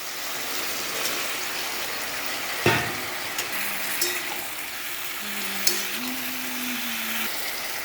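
Potatoes go into a pan where ridge gourd is already frying, bringing a steady soft sizzle with a sharp clatter, then a few light knocks and scrapes of stirring under a faint hum.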